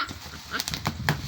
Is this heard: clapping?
no